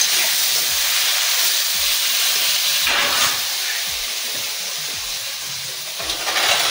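Potatoes hiss and sizzle loudly in hot oil in a home kitchen frying pan, a continuous close-up sizzle with slight swells.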